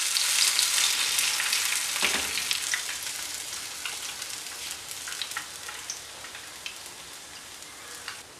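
Ripe banana fritters (pazham pori) deep-frying in hot oil, a busy crackling sizzle with scattered pops, loudest at the start and easing slightly over time, with no voices.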